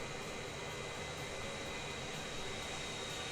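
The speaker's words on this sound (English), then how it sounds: "So here we see another plane taking off." A regional plane taking off in the Transport Fever 2 video game gives a steady, continuous jet-engine roar at moderate loudness that holds even throughout, with no voices.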